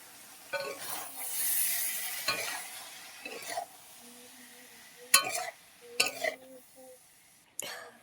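Kohlrabi fries in spiced oil with a quiet, steady sizzle, broken by several sharp scraping stirs of a spoon in the pan, while a low voice murmurs faintly in the background.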